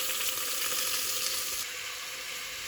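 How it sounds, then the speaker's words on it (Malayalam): Onion, tomato, garlic and ginger sauté in a hot pan, giving a steady, close, bright sizzle that holds evenly throughout with a slight drop partway, and no talking. "സവോള, തക്കാളി, വെളുത്തുള്ളി, ഇഞ്ചി, ഇനി ഇതൊന്ന് നല്ലോണം ഒന്ന് വഴറ്റിയതിന് ശേഷം ഇതിലേക്ക് മസാലപ്പൊടി ഇട്ട് കൊടുക്കാം"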